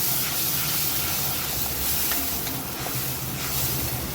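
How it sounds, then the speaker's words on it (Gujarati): Ginger, chili and tomato gravy hitting hot oil for farali potato noodles, a loud, steady sizzle and hiss that fills the whole stretch without pause, no voices over it. "હવે તેમાં આપણે જે આદુ મરચાં ટમેટાની જે ગ્રેવી તૈયાર કરી છે એ ગ્રેવીને આપણે એડ કરવાની છે"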